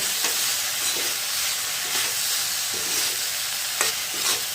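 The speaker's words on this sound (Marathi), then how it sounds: "तेजपत्ता दालचिनी आणि हे लवंग मिरी खडे मसाले टाकलेले आहे ते पण आपल्याला छान असं मस्त परतून घ्यायचं" Whole spices (bay leaf, cinnamon, clove and peppercorns) sautéing in oil in a black kadhai, a loud continuous sizzle broken by a few scraping stir strokes, close and without talk.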